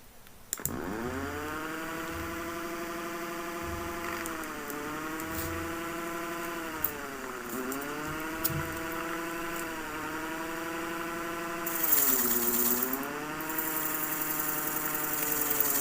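A 220V AC fan runs from a 12V DC battery with no inverter, giving a steady electric whir and hum that rises and falls in pitch in slow waves.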